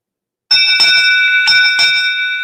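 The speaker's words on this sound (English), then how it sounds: "Let me test out some of the sound effects off my podcast board here. How about the ship's bell?" Ship's bell sound effect played from a podcast sound board, several loud bright clangs struck in quick succession, each ringing on with a sustained metallic tone, alone after a moment of silence.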